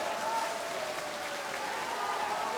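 A darts crowd in Japan applauding six perfect darts at a PDC Masters first-round match, steady distant clapping spread through a large hall, heard faintly and without a break.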